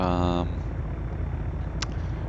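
A light aircraft taxiing toward a ramp at Locher Airfield in X-Plane 11, with a steady droning engine hum running throughout beneath a voice speaking.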